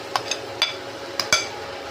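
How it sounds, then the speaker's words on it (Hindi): A spatula scrapes and clinks against a kadhai as amla paste dry-roasts over low-to-medium heat with no ghee, oil or water, giving a handful of sharp, sparse metallic taps over a faint background. "अब हम इसमें आंवले का पेस्ट जो हमने तैयार किया था वो डाल देते हैं"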